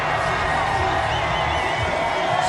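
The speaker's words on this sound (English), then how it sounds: "Appreciative crowd know what they're looking at too." An appreciative crowd at a sporting event cheers in a continuous, fairly distant wash of noise that stays level throughout, with occasional whoops rising out of it.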